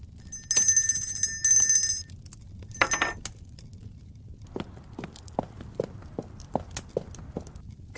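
A countess rings a bell to summon a servant in a dramatized castle scene: bright ringing bursts repeat at the start, followed by a clink and then steady, quieter footsteps approaching.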